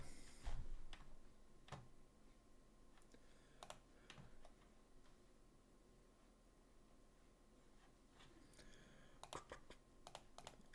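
Sparse, faint clicks of fingers typing on a computer keyboard, coming in short scattered bursts with pauses between them over a low steady background hiss.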